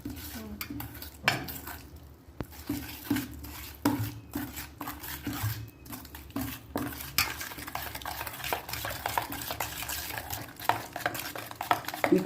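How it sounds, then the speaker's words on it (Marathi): Shrikhand being whisked by hand with mango pulp in a bowl for homemade amrakhand: close, continuous scraping and rapid clinking of the utensil against the bowl, steady throughout with no voices. "असं आपण एका भांड्यात घेऊन असं छान फेटून घ्यायचं।"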